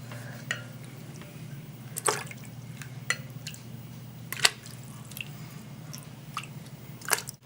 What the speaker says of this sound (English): a spoon just to spoon out the rest